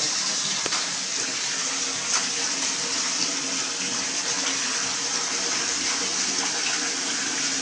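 Laundry being washed by hand in water, with steady splashing and sloshing close by that runs without a break through the whole stretch, fairly loud and with no talk over it.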